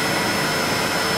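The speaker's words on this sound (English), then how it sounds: "The switch on this vacuum sometimes doesn't work." A vacuum cleaner runs steadily at close range while being used to clean an 800 MHz eMac computer, a loud continuous whooshing drone with no pauses or talk.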